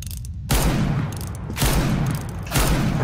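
Gunfire in a video game shootout, heard as three loud, close bursts of dense shooting, each lasting about a second and following in quick succession with no talk.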